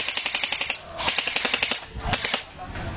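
Rapid bursts of sharp airsoft gun shots crackle in quick succession, loud and close, with brief pauses between volleys.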